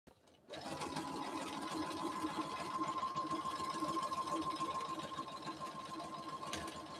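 A sewing machine stitches a quarter-inch seam at a regular stitch length, a steady, close, continuous whirring hum that runs unbroken after a quick start.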